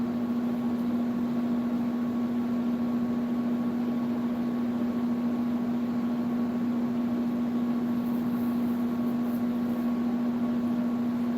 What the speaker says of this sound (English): the noise you're hearing in the background, that is my air conditioner.